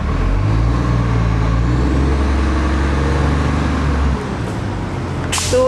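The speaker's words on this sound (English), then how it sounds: "And there's the bus. There's the bus again." A bus drives past on a nearby road, a loud engine drone and rumble that swells and then drops away as it passes, ending with a short hiss like an air brake.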